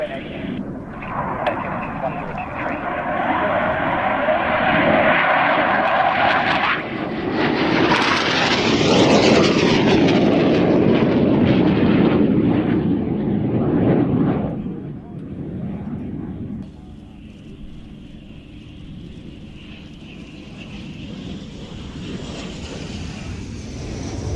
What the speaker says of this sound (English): It's the F-86 Sabre.